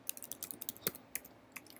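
Typing on a computer keyboard, a close run of light, irregular key clicks tapping steadily for under two seconds, quiet and without talk.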